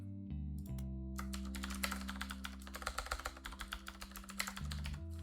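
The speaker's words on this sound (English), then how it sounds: "Return of the loud keyboard." A loud computer keyboard clatters in quick, uneven bursts of close keystrokes, over soft steady background music from a game.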